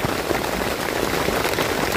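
Heavy rain pours steadily, a dense, loud hiss of drops beating on a surface with no pauses.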